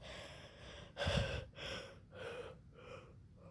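A voice imitating someone gasping for air: a sharp, loud intake of breath followed by several shorter, fading breathy gasps at a steady pace, close and alone without speech.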